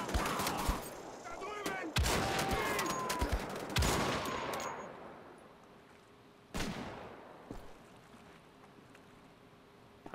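Gunfire in the video game Wolfenstein: The Old Blood, a rapid burst of loud shots followed by a few isolated cracks with quiet gaps between, nearby and sharp.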